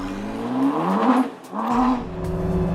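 A Ford rear-wheel-drive sports car accelerates hard with rising engine pitch through two gear pulls, a brief dip between them, heard moderately near with no talking.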